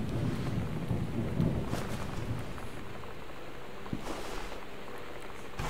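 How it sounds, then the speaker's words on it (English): Thunder rumbles with steady rain outside during play of the video game Gone Home, a broad continuous wash with swells of rolling thunder throughout, no talking. "Of course you've got the eerie lightning and thunder going on outside."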